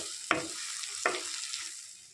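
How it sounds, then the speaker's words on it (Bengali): Chopped tomato and green chillies fry in a pan, a steady soft sizzle broken by two sharp scraping stirs of a utensil, close and alone with no talk. "এবার ভালো করে একটু নাড়াচাড়া করে নেবো।"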